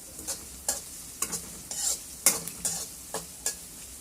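A spoon scrapes and stirs taro with onion, green chili and garlic paste in a hot pan. About ten short, uneven strokes sound close over a low sizzle of frying.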